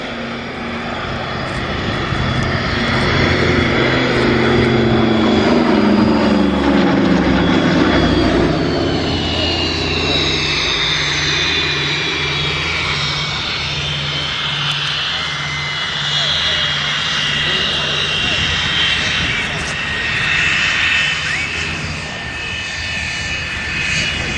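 A DC-3 propeller airliner's engines drone loudly and steadily throughout, with the pitch sweeping as the aircraft passes nearby, under a continuous roar.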